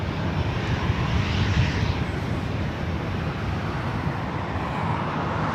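A WestJet Boeing 737-800 jet airliner at LAX airport gives a steady, loud, broadband engine roar that stays constant throughout, with no talking.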